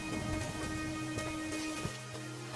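Heavy rain pours down at night, a dense continuous wash of downpour with faint low rumbles, steady and fairly close, with no voices.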